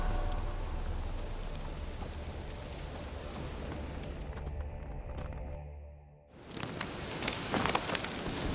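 Steady rainfall in The Witcher 3 game world, a dense continuous hiss that briefly thins and drops away before returning at full strength with scattered heavier drops.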